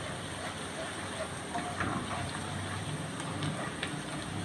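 One teaspoon of turmeric frying in hot oil in a pan, a steady close sizzle and crackle with no break, loud throughout.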